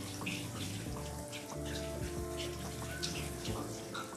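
Low-pressure water from a sprayer runs over a nervous dog during a bath, making a steady hiss and splash that fills the room, with no talking.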